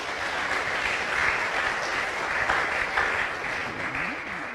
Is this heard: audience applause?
yes